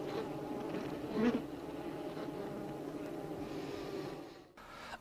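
Honeybees inside a hive produce a steady, dense buzzing drone that runs continuously, with a brief louder swell near the start and a short dip toward the end.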